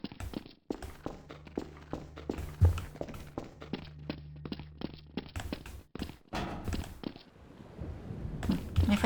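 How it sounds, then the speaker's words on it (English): Echoing footsteps of a player character walking through a Garry's Mod map, a steady run of close hollow taps and thuds with some pauses, sounding alone with a low background hum beneath. "My footsteps echo here and I keep thinking I hear something walking. I do hear something walking, it's me."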